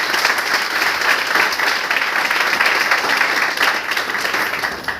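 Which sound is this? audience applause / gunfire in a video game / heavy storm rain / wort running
audience applause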